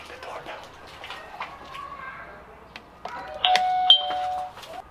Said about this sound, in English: Do I have to ring the doorbell?